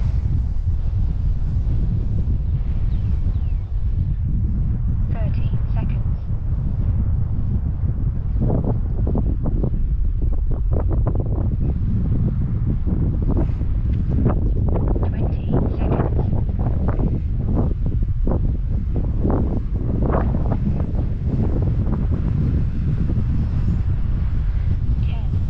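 Wind gusts across a hilltop field used for flying radio-controlled planes, a continuous rough buffeting on the microphone that runs throughout, with a voice briefly heard under it.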